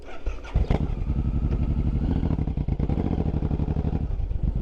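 A Suzuki M109R motorcycle engine cranks briefly, then catches and settles into a loud, close, lumpy idle with a steady rapid pulse, outdoors on a chilly street.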